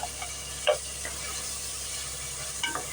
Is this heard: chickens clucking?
no